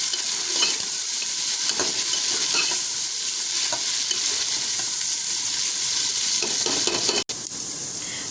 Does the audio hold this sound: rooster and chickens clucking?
no